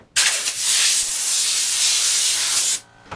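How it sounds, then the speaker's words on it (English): An air compressor runs while stain is sprayed onto a wooden boat's wheelhouse, a loud steady hiss that starts abruptly, holds for nearly three seconds and cuts off sharply. "as soon as this starts, the compressor will start"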